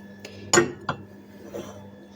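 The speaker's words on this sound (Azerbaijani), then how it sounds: "Sıyığımızdan bir nimçəyə azca tökürük." A spoon clinks against a dish as porridge is served into it, with a few separate light knocks and scrapes, one louder clink near the start and softer touches after, in a quiet kitchen.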